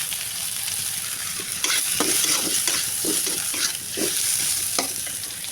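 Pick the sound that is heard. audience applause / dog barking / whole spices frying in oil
whole spices frying in oil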